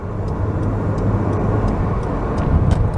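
A car on a Thai road surges forward under hard throttle to change lanes, giving a steady mid-level engine and road roar with faint ticking from the cabin and no speech.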